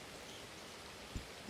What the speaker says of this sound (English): a gentle rain taps on rooftops